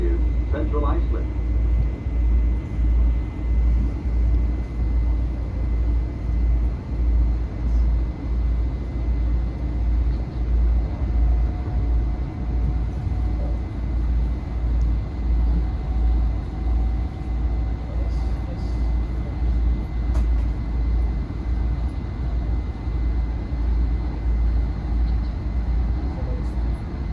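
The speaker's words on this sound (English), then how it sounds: "This is the train to Ronkonkoma." A steady low rumble of a commuter train to Ronkonkoma rolling along the rails, a continuous droning roar with faint rhythmic clatter throughout, close and unbroken.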